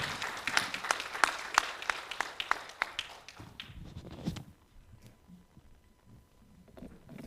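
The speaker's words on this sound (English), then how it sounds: "And a big round of applause for both the panelists." Audience at a panel session applauds the panelists, a burst of dense clapping that thins out and fades to faint scattered claps and quiet room noise.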